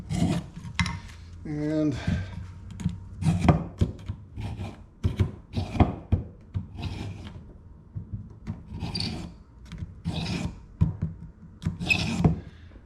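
A file rasps along a machete blade in repeated uneven strokes, close and fairly loud, with brief pauses between passes and a short spoken word near the start.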